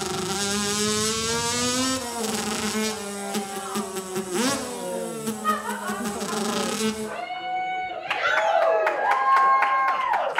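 A man imitates a revving two-stroke dirt bike with his mouth, a buzzing, rising and falling drone with climbing pitch sweeps like gear shifts, loud and close, then a shorter whining burst at the end.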